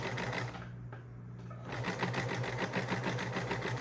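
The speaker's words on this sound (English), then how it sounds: "Just sew it all the way through. Just guide the fabric until finish" Sewing machine stitching fabric for an island top, a steady close mechanical whir with rapid needle chatter that briefly eases before running on strongly.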